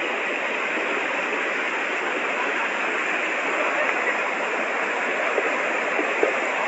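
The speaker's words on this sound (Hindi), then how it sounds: "ये है दूसरी नदी उफान पर" A flooded mountain stream in Kelvi, swollen and rushing, its water roaring as a dense, steady wash of noise that stays loud and unbroken throughout.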